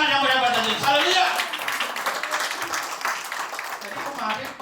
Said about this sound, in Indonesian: Beri tepuk tangan yang banyak tadi.